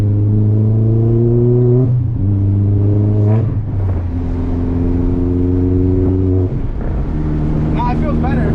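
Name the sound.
MK4 VW GTI accelerating in third gear with shortshifter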